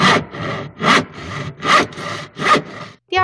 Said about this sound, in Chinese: 第一个应该大家比较明确是一个锯木头的声音